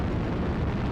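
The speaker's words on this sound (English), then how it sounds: "Must be ammo explosion." Sustained roaring blast from an exploding ammunition store on a mech in MechWarrior Online, a dense, loud rumble that fills the whole moment without letup.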